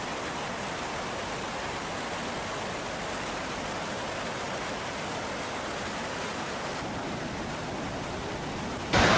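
Water discharged through the opened gates of the Chandoli dam during heavy rain, a constant dense roar of rushing water, loud and unbroken, with no voices.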